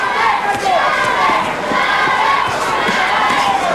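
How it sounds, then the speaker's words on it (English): A boxing arena crowd cheers and roars loudly throughout a bout between Julio Cesar Chavez and Miguel Angel Gonzalez, with a dense, continuous wall of shouting voices. "Crowd heavily in favor of Chavez."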